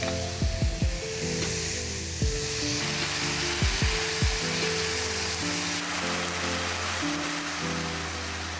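Minced meat sizzles steadily in a hot pan while oregano, cumin and salt are stirred in, a continuous close frying hiss with occasional scraping knocks of the utensil against the pan.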